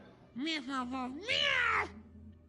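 A cat gives two drawn-out, wavering meows close to the microphone, the second louder and higher, in an otherwise quiet setting.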